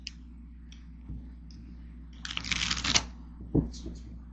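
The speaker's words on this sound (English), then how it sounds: "Let me get a good shuffle on them." Deck of cards being shuffled, with scattered clicks and taps, then a brief rapid riffling flutter in the middle and a final sharp snap; close and fairly quiet over a faint low hum.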